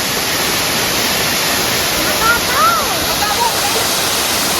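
Alitap Falls in Mauban, Quezon Province, roars as a loud, steady wash of falling water. A brief faint voice rises over it midway.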